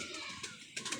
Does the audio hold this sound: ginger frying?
no